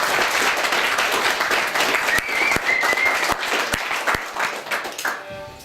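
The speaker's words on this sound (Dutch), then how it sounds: "Ik wil even hier een groot applaus voor Klaas en Klaske geven." An audience at a village gathering applauds Klaas and Klaske, a full burst of clapping that carries on with sharp individual claps standing out before it thins and fades at the end.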